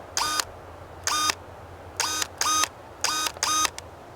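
A battery-powered pruning shear's motor whirs in short bursts as the blade moves, five or six brief buzzing runs with pauses between, close and fairly loud with no talk.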